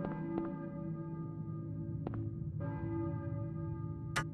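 A school bell rings in the Silent Hill video game, a steady resonant metallic ringing that holds throughout, quiet and distant, with a few sharper strikes cutting in and a bright click near the end.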